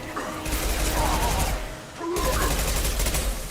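Impact-shot gunfire in the video game Mass Effect: dense, loud crackling bursts of fire in two sustained stretches, separated by a brief dip near the middle.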